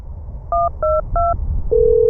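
A telephone keypad sounds three crisp dialing tones in quick succession, followed by a steady dial tone, all over a low background rumble with no talking.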